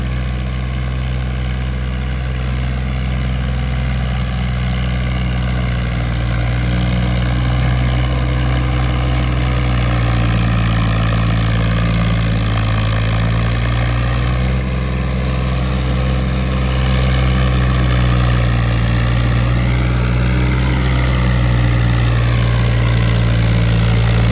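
A Swaraj 855 tractor engine runs steadily near the mic, a loud continuous low rumble with a slight rise in pitch partway through, loaded with a 22-foot trailer and heard alone without talk.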